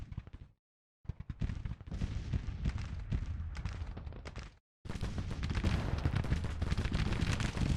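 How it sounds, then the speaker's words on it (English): Rapid volleys of musket and rifle fire from Civil War troops in the Grand Tactician strategy game, dense crackling shots rattling continuously with a couple of brief silent gaps, loud and close. "Okay, at least we are shooting back here."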